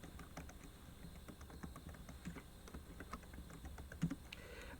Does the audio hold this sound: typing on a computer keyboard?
yes